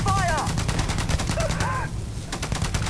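Rapid automatic gunfire in the space game Starfield, a dense continuous burst of shots under a brief voice, loud and close throughout.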